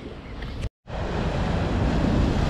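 Rough sea waves break and splash against a jetty: a loud, continuous roar of surf with heavy wind buffeting the microphone, briefly cut to silence for a moment, with no talk.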